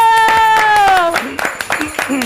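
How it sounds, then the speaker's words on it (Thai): A voice holds a sung or drawn-out tone, then a small group claps in uneven bursts of hand claps close by, with voices continuing beneath. "ปรบมือ"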